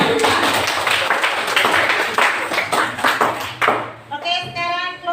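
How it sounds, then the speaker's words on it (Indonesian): A classroom audience applauds a presenting group, with a burst of dense clapping that thins into scattered claps, followed by a short ringing ping. "kita beri aplaus untuk kelompok"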